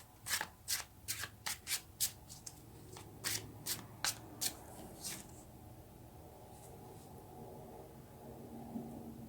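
Tarot cards being shuffled by hand, a quick series of crisp riffling snaps and flutters up close for about five seconds, then fading into quiet room hiss.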